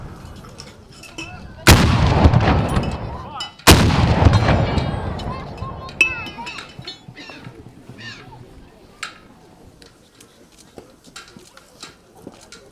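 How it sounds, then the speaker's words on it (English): A traditional 17-gun artillery salute fired at a Governor's ceremony: two loud, booming cannon blasts about two seconds apart, each followed by a long reverberating tail over faint crowd murmur and voices. "Then it was on to the traditional 17-gun salute"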